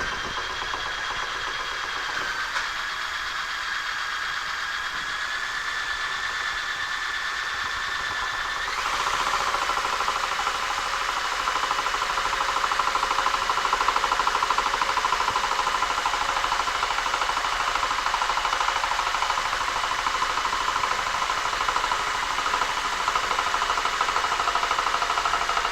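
Motors on a large 3D printer drive an axis with a steady close whine and hum. The tone shifts partway through, then the drive carries on as a louder, broader, unbroken mechanical drone.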